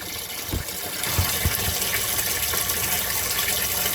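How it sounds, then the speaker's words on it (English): Water gushes steadily into the sump of a 220-gallon Planet Aquarium tank during a water change, a close, continuous rushing pour that holds even throughout. "and it's filling up the sump."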